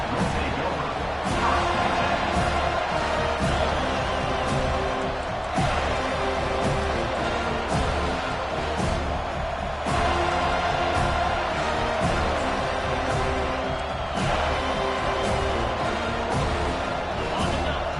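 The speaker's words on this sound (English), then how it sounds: "It's early, but this crowd is fired up. Listen to this noise here." A large stadium crowd at an FSU vs. Mizzou football game roars continuously, a loud, dense wall of cheering and shouting with rhythmic swells, and no individual voices standing out.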